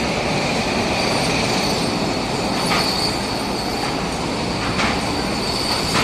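A train passing nearby, a loud continuous rumble of wheels on rails with faint squeals and clicks, steady throughout without voices.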